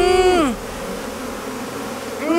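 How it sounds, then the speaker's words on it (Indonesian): A swarm of bees attacking people outdoors in the morning makes a steady, close, dense buzz that fills the clip, with brief tonal whines at the start and end. "Ada banyak lebah di leherku."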